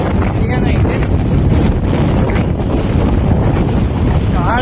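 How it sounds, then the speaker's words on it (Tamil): Strong wind buffets a hilltop peak, a loud continuous roaring rush that blasts the microphone without letup. "காற்றே பயங்கரமாக அடிக்குது."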